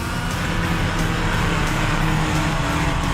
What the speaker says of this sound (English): give it full revs, dump the clutch, and away she goes